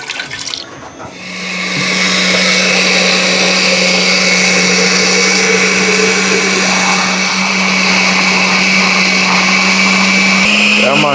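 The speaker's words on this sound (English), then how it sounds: "drop them in the blender." Kitchen blender chopping ingredients with water for a healthy Jamaican dish, starting after a brief clatter and then whirring loudly and steadily up close for the rest of the clip.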